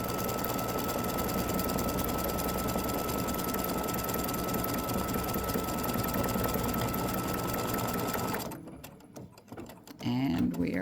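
An embroidery machine stitches a free-standing lace Christmas ornament in a steady, rapid mechanical whir with a faint hum. It runs loud and continuous for about eight seconds, then cuts out, leaving quiet handling noises before another sound starts.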